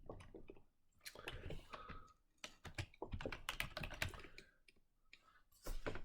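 Fast typing on a computer keyboard, dense bursts of close clicking keystrokes in quick irregular runs with brief pauses, quiet overall with no talking.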